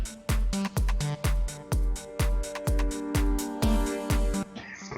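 Reversed piano in a tech house mix, chords swelling backward over a steady, punchy four-on-the-floor kick and crisp hats, loud and rhythmic with no voices.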